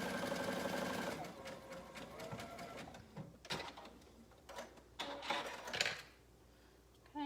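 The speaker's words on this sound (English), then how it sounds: "I'm just sewing around in the circle, trying to do my zigzag right on the edge of the folded over fabric" A sewing machine runs a zigzag stitch along the folded edge of fabric, hemming a garment leg; a steady machine whir fills the first second, followed by short bursts of stitching and clicks at moderate loudness.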